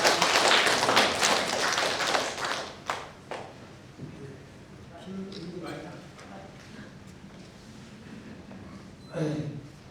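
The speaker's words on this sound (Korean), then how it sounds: "큰 박수로 감사합니다." An audience at a Korean book launch talk concert applauds, a dense burst of clapping that thins out after a few seconds into scattered claps, with a person speaking as it fades.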